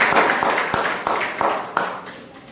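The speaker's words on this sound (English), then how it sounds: "help me with a huge encouragement with your round of applause" Small audience claps to welcome a Toastmasters speaker, a short burst of light clapping with a few distinct sharper claps that fade toward the end.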